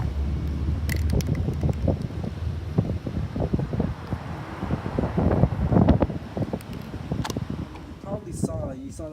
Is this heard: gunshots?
no